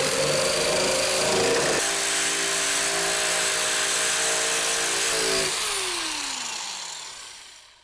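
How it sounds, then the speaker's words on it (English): An Eastwood Contour SCT surface conditioning tool fitted with an 80 grit sleeve, used for body work on a Honda S2000, runs as a loud, steady, close whine that shifts pitch partway through, then winds down and fades at the end. "Let's give the 80 grit a go."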